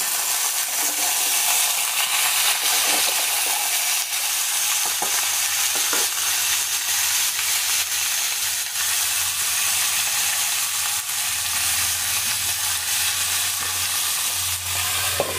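Broken wheat khichdi is stirred in a hot pan, a loud, constant sizzle and bubbling hiss with occasional scrapes and taps of the spoon, heard close up.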